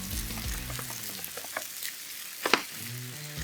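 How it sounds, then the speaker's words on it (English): Burger patty sizzling on a griddle, a steady close frying hiss with a few light scrapes and a sharper clack near the end, no voices. "So we'll cook this usually on the griddle"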